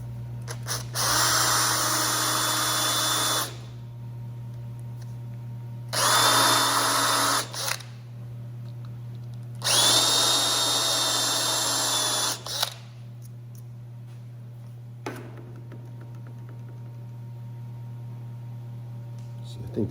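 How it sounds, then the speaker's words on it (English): A power drill with a countersink bit bores into Delrin plastic in three whirring bursts of roughly two to three seconds each, close and loud over a steady low hum, with brief clicks between bursts. "different size countersink tools, and that's what I'm using here."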